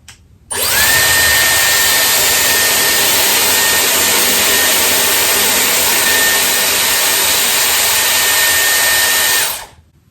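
A Dyson Airwrap hair styler set to full heat and full fan, a loud steady high-pitched whirring blow that switches on abruptly, holds constant for about nine seconds, then stops.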